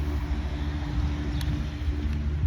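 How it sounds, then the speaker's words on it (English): Traffic on a main street, a steady low rumble of passing cars heard fairly close, continuous and even with no voices. "Y'all might hear some cars because I'm coming up on a main street right now."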